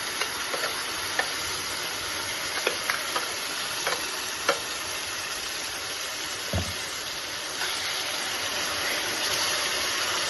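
Tamarind chutney going into a hot tempering in a pan, giving a steady, fairly quiet sizzle and hiss throughout, broken by a few sharp taps and clinks of stirring.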